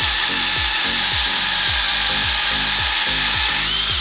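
Coarse 60-grit sandpaper rubs against a spinning turned wooden bowl on a lathe, a loud continuous rasping hiss over a repeating low rhythmic thump from the rotation, close up and steady.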